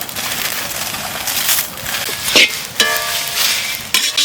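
Cumin, fennel, cardamom and Kashmiri chillies roast in a hot pan, giving a steady dry sizzle with intermittent scraping stirs and a few sharper clinks, loud and close, with no talking.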